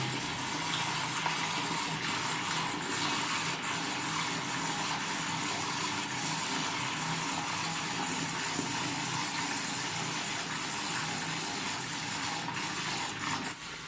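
A steady, loud rush of water flushes through a home heating radiator in a living room as the radiator and plumbing are cleaned. The hiss holds evenly the whole time, with no talking.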